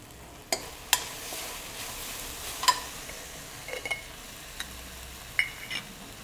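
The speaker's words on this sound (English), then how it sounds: "Put in 2 pinch of asafoetida." A pinch of asafoetida drops into hot oil in a pan while a cauliflower dish is cooked, giving a faint, steady sizzle broken by a few sharp clinks and stirring taps.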